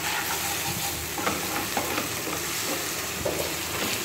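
Meat spice mixture being stirred in a hot pan, a steady close sizzle with scraping stir strokes running throughout, no voices.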